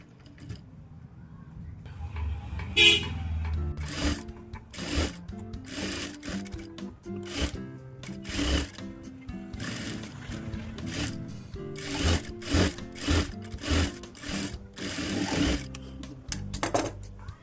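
A sewing machine stitches a hemming strip onto a blouse lining in a run of rapid mechanical bursts, each a quick whirring chatter, separated by brief pauses, close and clear with no talk.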